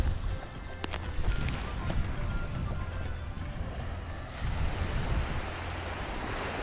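Morning sea waves at Henry Island beach wash in with a broad, steady rushing roar, swelling twice, mixed with wind buffeting the microphone and a few faint clicks; no talk.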